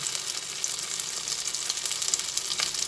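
Batter-dipped pieces fry in hot oil in a wok, a dense, bright, close sizzle that crackles continuously with no talking.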